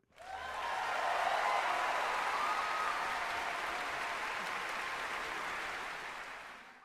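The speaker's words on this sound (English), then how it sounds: "A lot of cheering." Loud crowd cheering and applause sound effect, marking a mahjong win, swells within the first half-second and holds as a dense, steady roar for about seven seconds with no talking.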